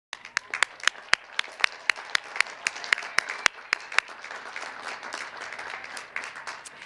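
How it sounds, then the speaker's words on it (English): A university commencement audience applauds the arts graduates: crisp individual claps ring out at first, then thicken into a dense, sustained round of applause from a large crowd, fairly loud and with no speech over it. "Graduates, we applaud and celebrate you"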